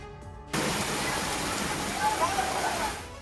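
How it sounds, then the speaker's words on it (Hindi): Heavy rain pours down on flooded streets in Latur, Maharashtra, a dense steady roar of falling water and rushing floodwater starting abruptly and holding loud throughout. "बारिश की तेज धार और पानी में पटवार बनी बाइक।"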